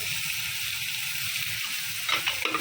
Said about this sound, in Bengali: পেঁয়াজ লাল করে আদা রসুন দিয়ে তার মধ্যে চিকেন কেটে দিয়ে দিয়েছি এটাকে কষিয়ে নেব